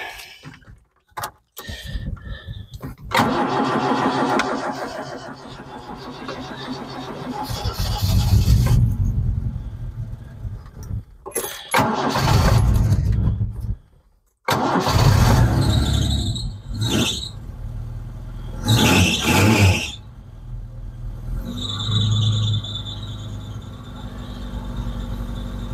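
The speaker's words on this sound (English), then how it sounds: "As you can hear there, still got a bit of a squeal on that belt." A Vauxhall Chevette engine cranks and catches, then idles and revs in bursts, with a sharp belt squeal rising over the rumble; no one speaks.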